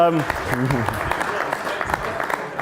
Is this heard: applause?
yes